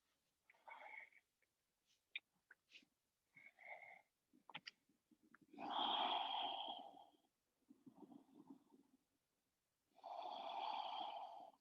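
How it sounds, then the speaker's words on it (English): Slow, deep breaths during a gentle yoga practice come close and soft, with airy inhales and exhales that swell and fade in uneven bursts and leave short silences between them. "2 more slow breaths here"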